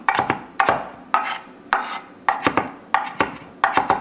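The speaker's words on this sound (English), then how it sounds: "that's how you want to chop that" Knife chopping jalapeno, dill and onion finely on a cutting board, a quick series of crisp, close taps in short irregular bursts with no talking.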